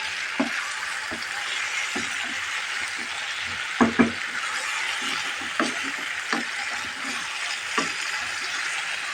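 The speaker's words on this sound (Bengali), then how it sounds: "সবজিটা আমি ভালো করে কষিয়ে নিচ্ছি" Radish sautéed and stirred in a pan, with a steady close sizzle and occasional spatula scrapes and clinks against the pan, no talking.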